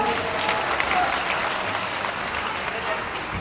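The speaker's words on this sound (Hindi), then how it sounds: "गुजरात के लिए तो ताली बजाओ सभी लोग" A crowd applauds at a political rally held in Begusarai, Bihar, with dense, steady clapping filling the whole stretch at an even loudness and no pauses.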